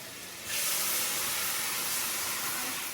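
Food hits hot extra virgin olive oil in a pan and a broad sizzle bursts up after a brief quiet moment, then holds steady and hissing to the end, with no talk.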